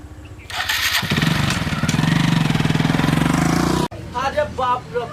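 A tractor engine plows a field, its loud steady chugging and rapid throbbing revving up close after a start, then cutting off abruptly; voices and music follow.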